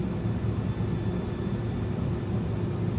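Airbus A300 engines throttling up in a flight simulator, a steady, loud jet drone with a broad whine that holds evenly throughout.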